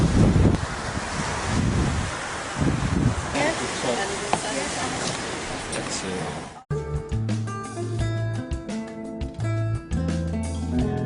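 Wind buffets the microphone over sea waves on the Aegean coast at Altınoluk, Turkey, a loud rushing roar for about six seconds before it cuts abruptly to music.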